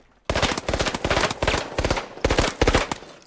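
Burst-fire weapon in the video game The Finals, loud close gunfire in several quick clustered bursts of rapid shots with brief gaps between them.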